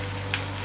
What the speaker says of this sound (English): We should make sure ketchup is fried properly